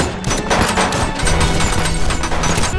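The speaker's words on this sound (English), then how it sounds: "decided to destroy the gold room by firing it continuously till that bulletproof glass" Rapid, sustained gunfire at bulletproof glass, loud and dense, shots overlapping into a continuous barrage with no real pauses.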